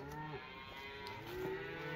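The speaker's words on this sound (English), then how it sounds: "So loud. Lots of cows. Lots and lots of cows." Cattle mooing on a Canadian farm where beekeeping is done, several long, loud lowing calls overlapping one another with no talk.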